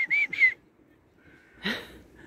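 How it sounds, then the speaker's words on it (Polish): Someone whistles two quick, sharp notes close by to call a dog, then after a pause comes a rougher burst and a fainter whistle. "On na ten mój gwizd tak reaguje."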